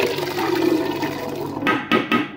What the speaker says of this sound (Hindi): ये चने बॉयल करके रखे हुए थे, पानी भी इसका साथ में ही है, ये भी इसमें ऐड करते हैं।